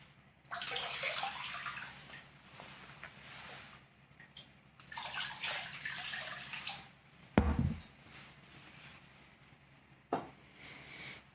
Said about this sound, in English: And now to finalize, I'll rinse my feet.